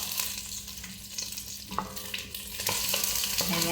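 Onions frying in a pan while being stirred, with a steady loud sizzle and scraping utensil strokes throughout, no talking.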